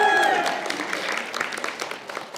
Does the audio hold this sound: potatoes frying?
no